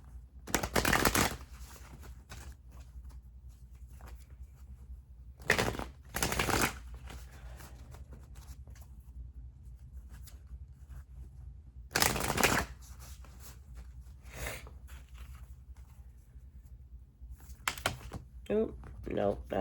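A deck of oracle cards is shuffled in several crisp riffling bursts, close and clear, separated by quiet pauses with faint background sound.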